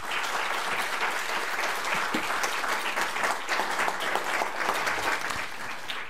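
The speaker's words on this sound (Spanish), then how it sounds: "un aplauso al profesor Jorge Hidalgo" Audience applause for a professor at a faculty deanship debate, a sustained dense wash of clapping from a seated crowd, steady throughout with faint voices beneath.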